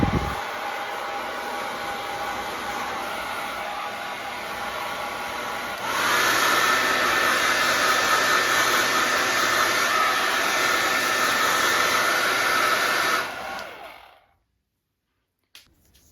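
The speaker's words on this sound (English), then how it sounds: "I just want to show you what it sounds like to turn this blow dryer on" A Tymo Airhype blow dryer runs with a steady airy whoosh, then jumps to a louder, higher-pitched setting with a thin whine before shutting off and falling silent near the end.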